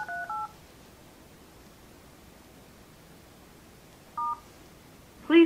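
An Avaya B199 IP conference phone automatically dials a short sequence of DTMF tones: a pair of beeps at the start, another after a pause, then a final tone over faint steady hiss.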